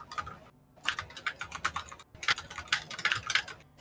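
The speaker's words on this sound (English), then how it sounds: "I can hear your typing, Penguin." Rapid bursts of clicking keystrokes on a computer keyboard, close and fairly quiet, in uneven runs broken by short pauses, with no talk over them.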